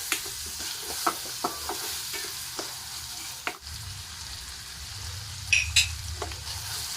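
Onions and green chillies sizzle in a pan while salt and turmeric are stirred in, a steady fry broken by regular scrapes and taps of the spoon against the pan, with no talking.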